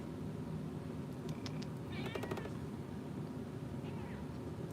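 A pet cat meows a few times at close range in a home, with short harmonic calls over a steady background hiss and faint murmuring.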